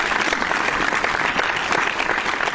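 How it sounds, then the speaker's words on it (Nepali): Dense hand-clapping applause from a crowd at a gathering, steady and loud throughout with no pause, no voices rising above it. "अब पहिला सुरुमा आफ्नो लागि आफैले ताली बजाउँछु।"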